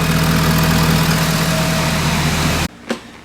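A Ford 6.7 Powerstroke diesel, a 2015 engine swapped into a 2011 F-250, idles with a loud, steady low rumble up close, then cuts off abruptly, followed by a brief thump.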